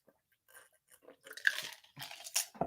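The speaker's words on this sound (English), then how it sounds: "I hope I'm not slurping loud." Close, fairly quiet crunching and chewing during eating, with soft bites and mouth noises in uneven bursts, no talking.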